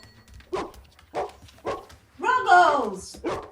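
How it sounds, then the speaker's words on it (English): A dog barking in a domestic stage scene, several short barks and yips spaced through the clip, fairly close and moderately loud, with people talking in between. "Stupid dog."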